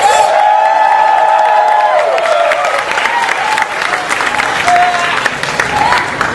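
An Indonesian stand-up comedy audience applauds and cheers loudly. Whoops and raised voices ring out over the opening seconds, then dense clapping carries on to the end.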